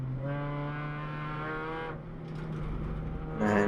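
A Porsche race car on track in a club relay race, its engine holding a steady loud drone with a shifting pitch partway through, the note rising again near the end.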